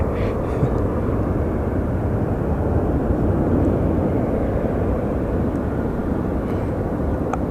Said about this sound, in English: And we have liftoff of our Allegiant Airbus.